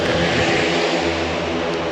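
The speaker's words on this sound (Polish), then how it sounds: "To prawdziwy ryk motorów!" Speedway motorcycle engines roar at a race meeting, a dense, continuous mechanical drone with steady, loud pitch and no pauses.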